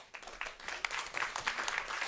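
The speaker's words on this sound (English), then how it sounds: "Please give him a round of applause." Audience at a food security panel applauding a google.org guest, a moderately quiet, steady spatter of hand claps from a crowd, with some louder individual claps mixed in.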